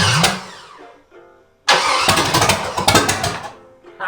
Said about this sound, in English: That is the sound of the Chevy motor running.